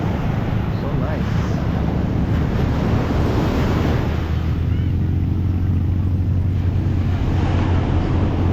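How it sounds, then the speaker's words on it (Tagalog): Strong sea waves break at Liwliwa beach in Zambales with a continuous close roar of surf, mixed with heavy wind buffeting the microphone throughout. "lakas ng alon"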